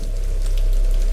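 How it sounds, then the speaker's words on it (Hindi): Torrential rain driven by strong wind around a house, an unbroken loud wash of hiss over a deep steady rumble, with no speech. "तेज हवा के साथ बारिश की आवाज पूरे घर में गूंज रही थी।"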